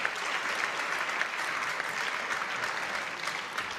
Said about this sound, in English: The applause there matches the applause of Sofia Polkanova